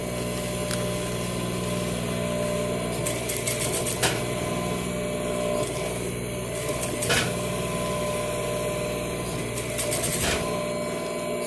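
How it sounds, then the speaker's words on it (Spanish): Sewing machine stitching the zipper on a leatherette (vinyl leather) jacket sleeve cuff, a steady mechanical whir with rhythmic needle ticking and a few brief clacks, close and continuous with no talking. "Vamos a coser hasta el final."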